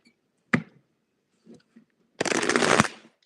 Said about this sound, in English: the big cards are hard to shuffle